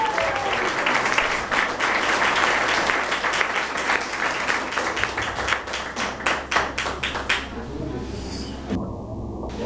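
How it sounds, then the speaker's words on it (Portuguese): A church congregation claps for Jesus during a worship service. The applause is loud, dense and continuous, and it turns into a more rhythmic, unified beat near the end. "Pode bater palmas para Jesus."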